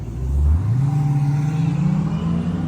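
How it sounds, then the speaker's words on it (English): A Dodge Demon's supercharged engine rumbles loud and close, with the blower's whine rising briefly as it revs, then holding a steady droning hum. "Got the demon motor, the demon blower blowing."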